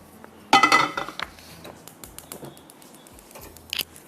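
A cooking pot and metal utensils clatter and clink as meat for dal gosht goes on to cook, a loud burst of scraping and knocking followed by scattered lighter clinks, close up with no talk.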